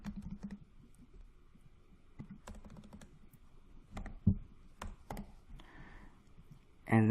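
Someone types a role name on a computer keyboard in scattered bursts of soft clicking keystrokes, close and quiet, with a louder thump at the end and no speech.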